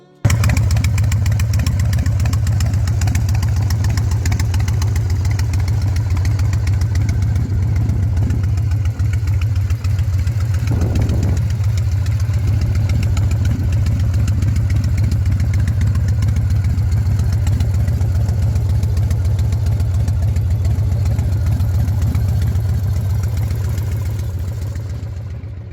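A 1998 Harley-Davidson Fat Boy with a 1,340 cc Evo V-twin runs steadily at idle for the whole stretch, a loud, deep, even low-end throb with no voices over it.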